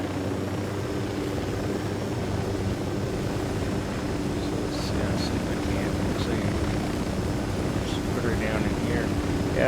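Helicopter in the video game Ghost Recon Wildlands, a steady droning rotor and engine hum that holds at an even level throughout, with faint chirps and effects in the background.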